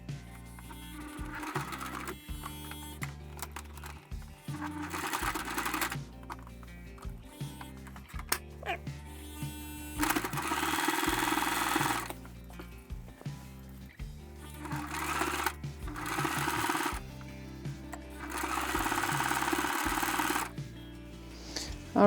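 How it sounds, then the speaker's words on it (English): Sewing machine stitching the folded edge of a bath towel, a close rhythmic mechanical whirring in repeated bursts separated by short pauses. "And now we're going to sew it in place."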